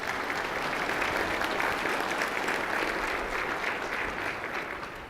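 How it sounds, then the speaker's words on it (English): A large audience at a 2018 State of the City address applauds steadily, a sustained crowd clapping at moderate level that holds evenly for several seconds before easing slightly at the end. "Please recognize them with a round of applause as well."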